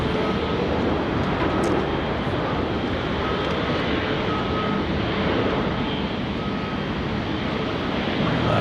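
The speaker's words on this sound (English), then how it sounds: "the Fiji Airways A350-900 is going to be making her way down to the" Fiji Airways Airbus A350-900 taxiing to the Alpha 1 holding point at Sydney Airport, a steady, loud jet engine roar with broadband hiss that holds throughout.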